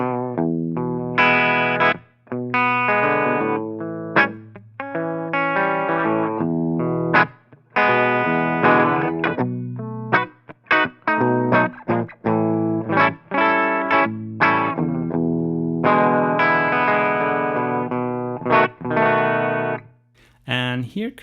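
Electric guitar played on the bridge pickup through a Line 6 Helix stock cabinet model, a continuous stretch of picked notes and chords that sounds processed and slightly distorted, loud and close with brief gaps between phrases.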